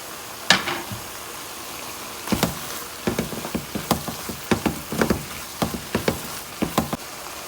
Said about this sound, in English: Now I'm gonna add in the garlic and the onion and saute this together for a couple of minutes.